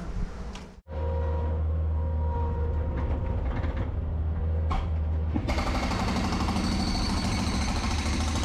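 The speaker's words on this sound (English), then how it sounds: "I got to break the garage floor, it's going to take a while because I got to go slow." A jackhammer breaks up a concrete garage floor, a loud, steady mechanical hammering and engine drone that runs almost without pause, with one short dropout near the start and a brighter, harsher stretch toward the end.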